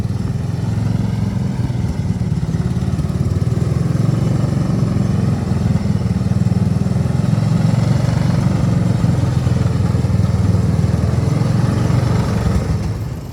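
A 1970s ATTEX 6x6 ATV engine driving off-road drones loud and close with a steady low rumble and rough clatter, holding at constant throttle throughout.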